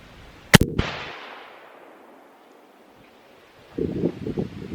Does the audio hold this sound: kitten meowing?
no